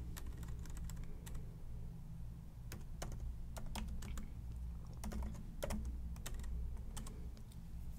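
Typing a server command on a computer keyboard, with steady irregular key clicks in quick bursts over a constant low hum, close and alone.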